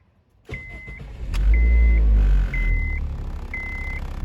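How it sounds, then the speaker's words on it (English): A Honda Civic Hybrid with stalling and charging faults starts after a delay. A short crank burst comes first, then the engine catches into a loud, steady idle, while a warning chime beeps four times at even intervals. "I went to crank the engine over, and there was a delay before the engine actually started"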